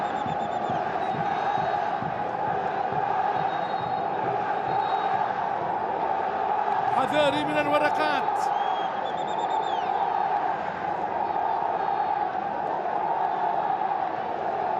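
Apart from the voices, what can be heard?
Al-Nassr fans crowd cheering in stadium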